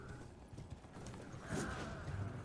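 Horse hooves clip-clop on the ground in Elden Ring, a steady mid-loud trotting rhythm with a brief whinny-like burst near the middle, no talk over it.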